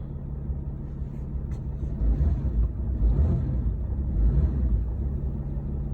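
A diesel pickup truck engine idles steadily after starting, a low, even rumble that swells slightly and holds close and continuous, with no talk over it.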